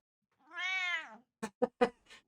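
A house cat gives one drawn-out, tonal meow, then a few short, sharp chirping mews in quick succession, close and clear with no talk.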